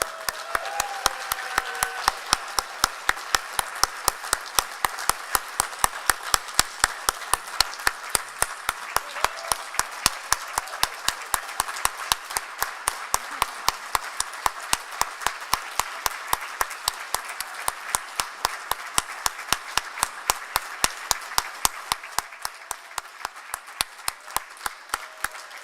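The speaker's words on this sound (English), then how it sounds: "give them another big round of applause" A graduation audience at Governors State applauds the standing graduates with long, sustained applause that runs for over twenty seconds before tapering off, with evenly spaced sharp claps from a nearby pair of hands and no talking.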